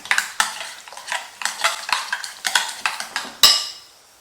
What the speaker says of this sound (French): je mélange tout ça pour former comme une pommade